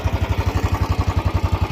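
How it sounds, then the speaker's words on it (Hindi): A Royal Enfield Bullet 350 motorcycle engine runs with the distinctive slow, even thump of its single cylinder, a loud close pulse repeating about eight times a second with mechanical clatter on top, no voices. "अब मैं बाइक को स्टार्ट करके दिखाता हूं आपको इसके वाइब्रेशन इश्यूज।"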